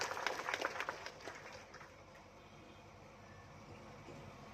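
A crowd claps at an outdoor political rally in a village, with a burst of applause early on that fades into a low, distant murmur.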